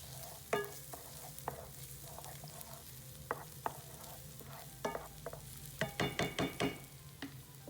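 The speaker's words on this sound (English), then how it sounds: "this is when we added in our garlic and our ginger into the skillet" Garlic and ginger hit a hot skillet and fry with a soft, steady sizzle. Scattered scrapes and taps of a utensil stirring come through, ending in a short burst of rapid stirring knocks.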